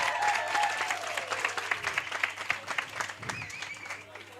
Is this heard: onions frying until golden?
no